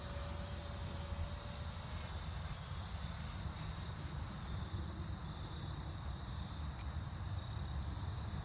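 A Freewing 70mm F-16 V3 RC jet flying on its maiden flight in wind, heard as a distant, steady ducted-fan whine over a constant low rumble of wind.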